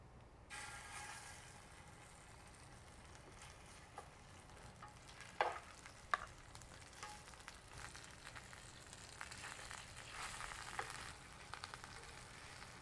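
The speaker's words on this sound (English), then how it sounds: "Now I'm going to add my chicken in here." Chicken pieces sear in hot oil in a pan. There is a soft, steady sizzle with occasional stirring scrapes and clatter, faint and close, with no voices.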